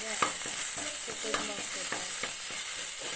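Ginger garlic paste fries in a pan for ghee rice, a bright constant sizzle under quick repeated spatula scrapes and taps, close up with no voices.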